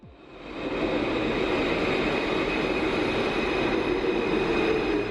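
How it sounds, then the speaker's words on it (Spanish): Alstom AS 2002 train on Santiago's metro Line 4 running at steady speed, a loud continuous rumble and rolling roar filling the car from start to end after a brief rise, with no talk. "Viajaremos un poco en el metro, en los trenes Alstom AS 2002 de línea 4"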